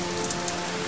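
Steady rain patters on a surface in a children's cartoon, a dense even hiss of drops with a few slightly louder splashes, heard alone and fairly close.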